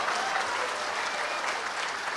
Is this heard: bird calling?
no